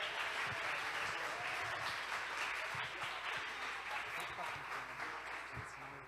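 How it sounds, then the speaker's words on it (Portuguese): Audience claps and cheers through a church celebration event, a dense steady burst of applause with some voices mixed in. "Uma salva de palmas para Jesus."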